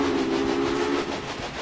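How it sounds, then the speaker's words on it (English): Steam train whistle in the video game Railway Empire, a sustained tonal blast held steadily for about a second before fading, heard alone over a low rumbling rail background. "Blow the whistle."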